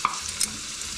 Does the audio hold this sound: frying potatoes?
yes